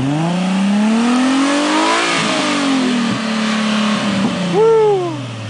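Nissan 350Z Nismo with a single-tip catback exhaust, revved hard to around 7,000 RPM: loud, close engine climbing in pitch, dipping and surging through repeated revs, ending in a sharp final blip.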